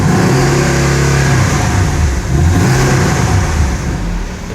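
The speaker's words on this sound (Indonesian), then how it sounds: "Itu dia suara dari Boxster S." A Porsche Boxster S 718 four-cylinder engine revving hard, a loud, steady throaty roar that rises and dips slightly while idling up, close by and with no voices.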